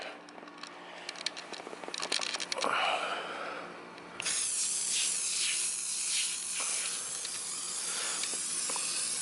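Foam cleaner sprayed from an aerosol can onto a car wheel during detailing, heard as a steady close hiss that runs through most of the clip, starting in short bursts before settling into a continuous loud spray.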